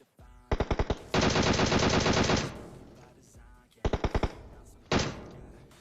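Gunfire in the PUBG Mobile battle royale game, loud close automatic bursts with a few single shots leading into long sustained rattling volleys, then two more short bursts.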